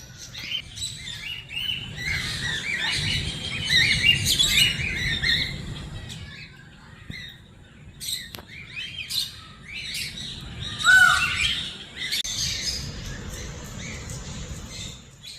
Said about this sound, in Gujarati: આવ્યા છીએ રાખોડી અને સફેદ કોકાટી.